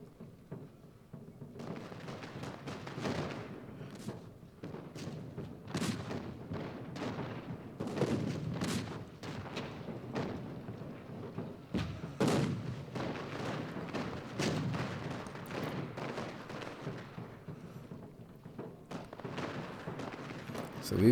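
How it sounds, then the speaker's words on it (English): Booming cannon artillery fire from the Civil War strategy game Ultimate General: Gettysburg, repeated heavy blasts and rumbling volleys rolling almost continuously over a dense battle din for about twenty seconds. "So we've got cannons shooting down."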